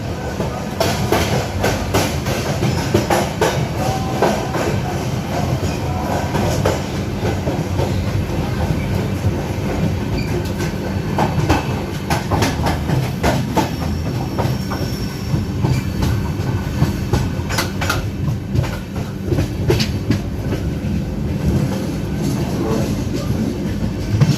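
Aboard the Telangana Express passenger train running from Hyderabad toward Delhi, a steady rumbling roll fills the carriage, with rhythmic clickety-clack of wheels over rail joints and occasional sharper knocks throughout.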